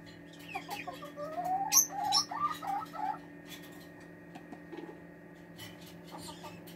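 High, thin peeping of several five- to six-day-old Black Brahma, Serama and Silkie chicks, chirping in quick bursts close by, then tapering off to scattered faint peeps over a steady hum.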